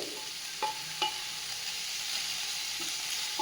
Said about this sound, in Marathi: यामध्ये बारीक चिरलेला एक टोमॅटो मी घालते